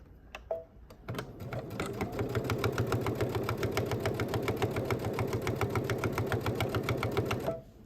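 Sewing machine stitching straight quilting lines on a quilted appliqué table runner, a steady rapid mechanical chatter running loud and close for several seconds after a few brief clicks.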